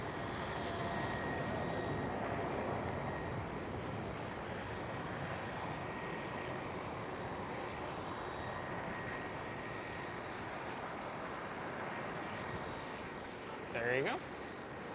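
TUI Boeing 787 jet passing at Schiphol Amsterdam, a continuous moderate jet roar that stays fairly even before dipping, then a brief louder whoosh near the end, with speech faintly present.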